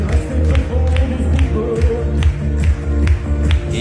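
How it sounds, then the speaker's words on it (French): Parents applauding: close, steady rhythmic clapping from a group, with a murmur of crowd noise mixed in. "Et ils applaudissent, c'est con."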